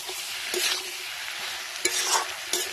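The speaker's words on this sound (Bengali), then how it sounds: "চিংড়ি মাছটা দিয়ে এভাবে একটু নাড়াচাড়া করে দেবো।" Prawns being stirred in a hot pan for a ridge gourd and potato curry, with a steady frying sizzle and several distinct scrapes of the spatula against the pan, close and fairly quiet.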